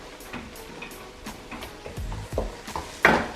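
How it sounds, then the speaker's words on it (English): Spices frying in a pan as cashew nut paste is added, giving a faint sizzle with scattered spoon stirs and light clinks, then a louder sputtering burst near the end. "I'm going to lower the heat and fry the spices for 2 to 3 seconds."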